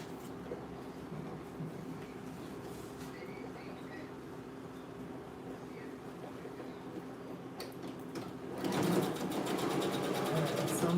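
A sewing machine top stitches a piece of dog clothing, a low steady motor hum that runs throughout and grows louder and busier with rapid stitching in the last few seconds.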